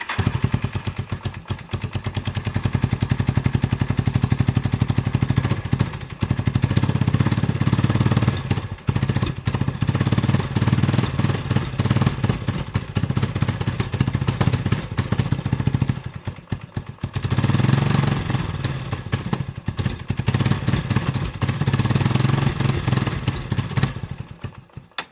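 The engine of a 1989 Yamaha Big Bear 350 ATV, revived after sitting more than ten years, runs on half choke with a loud, continuous, rough putter close by and brief dips in level now and then.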